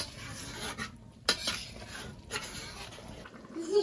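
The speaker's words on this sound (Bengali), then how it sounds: "ভেজে রাখা পেঁপেগুলো দিয়ে দেবো এখন আমি। একটু নাড়া দিয়ে নেব।" A spoon stirs fried papaya into goat meat curry in a metal pot, with faint scraping and a few sharp clinks against the pot.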